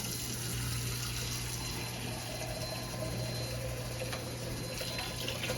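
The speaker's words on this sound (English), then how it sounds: "put some hot water in the pan" Hot tap water runs steadily into a kitchen pan, a continuous soft gushing and hissing stream heard alone at moderate volume.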